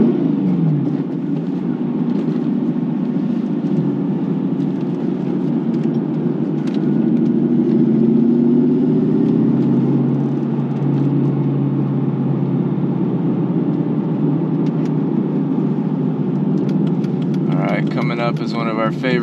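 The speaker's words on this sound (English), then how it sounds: "we're just cruising 6th gear, 33 miles per hour, like 1100 RPM" A Mercedes C55 AMG with custom suspension cruises in sixth gear at about 33 mph and 1100 rpm, its low, steady engine drone filling the cabin while people talk over it.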